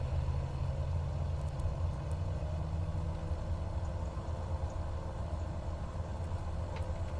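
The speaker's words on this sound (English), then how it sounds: "So I'm still hearing the wrong engine sound" The engine of a Carenado PC-12 in a flight simulator drones in a steady, unbroken low hum that holds at a constant level throughout.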